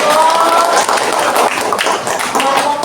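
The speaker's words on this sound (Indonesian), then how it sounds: "Tepuk tangan dulu untuk kelompok" A group of people claps for a student group in a classroom, dense, steady applause filling the whole moment with some voices mixed in.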